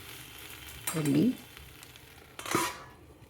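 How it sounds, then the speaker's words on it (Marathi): Okra bhindi sabzi is stirred in a pan over a soft background sizzle, with two distinct bursts of scraping and rustling about a second and a half apart. "हलवून घेते मधून मधून हलवली म्हणजे कसं खाली जळत नाही"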